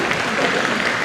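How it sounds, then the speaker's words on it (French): A brief burst of crowd applause at the Utopiales 2010 science-fiction festival award session, loud and dense but lasting only about a second, with a hint of voices in the room. "Allez hop, des applaudissements"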